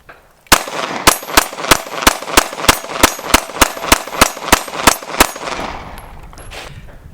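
Glock pistol fired in a fast run of about fourteen evenly spaced, sharp, loud shots over roughly five seconds, with a short ringing tail and faint outdoor ambience afterward.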